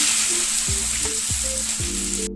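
Garlic crackles and sizzles in hot oil in a pan for a Kerala beef leg curry, a close, continuous frying hiss with a few soft stirring knocks, no voices.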